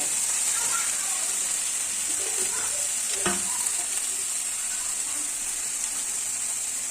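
Khesari greens frying in a pan together with onion and eggplant, a steady moderate sizzle and hiss with a single sharp clack of a utensil partway through, no voices.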